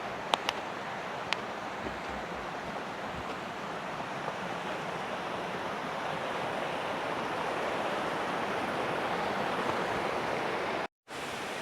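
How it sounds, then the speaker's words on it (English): A waterfall on a hiking trail, with ice on one side, gives a steady, even rushing roar throughout, moderately near, with a few faint clicks near the start and no talk. "It looks like I should have the waterfall just in front of me."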